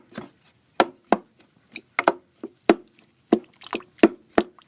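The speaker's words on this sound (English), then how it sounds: "Just mashing up the potatoes." Cooked potatoes for soup being mashed by hand, a series of close, soft, wet thuds and squishes at an uneven rhythm with quiet pauses between.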